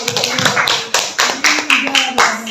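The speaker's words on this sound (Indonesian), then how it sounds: "Beri tepuk tangan untuk kelompok 2." Classroom clapping for a student group, a handful of sharp, loud rhythmic claps in a small room with a voice between them.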